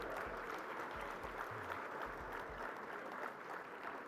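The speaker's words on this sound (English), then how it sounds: "let's have a huge round of applause for his welcome" A crowd applauding steadily at the India Energy Week 2025 closing ceremony, a dense wash of clapping that holds at an even level throughout, with no talking.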